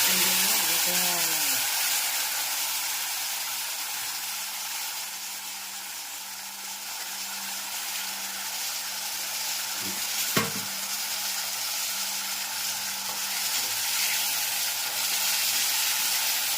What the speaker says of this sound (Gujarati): સરસ મજાનો વઘાર થઈ ગયો છે.